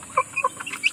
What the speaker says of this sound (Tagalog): tandang ito